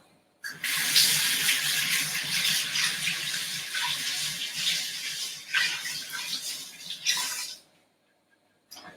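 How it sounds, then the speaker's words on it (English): Hands are washed under a running tap, a steady close splash of water that stops briefly and resumes before the flow is shut off. "And then wash my hands as well."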